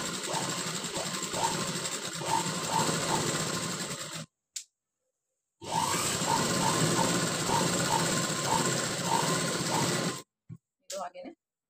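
Sewing machine stitching a blouse lining for a high-neck collar front piece, fast rhythmic clattering in two bursts separated by a short pause, close and fairly loud, with a voice talking beneath.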